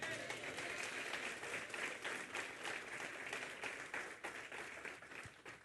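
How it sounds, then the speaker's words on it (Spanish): A church congregation applauds in a steady, continuous wash of clapping that holds at an even level and then fades slightly at the end, with a voice faintly underneath. "Dale un aplauso al Señor."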